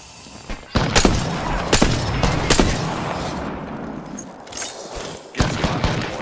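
Apex Legends gunfire rattles close and loud as repeated sharp shots and short bursts, spaced irregularly over a busy rumbling background, with a fresh volley near the end.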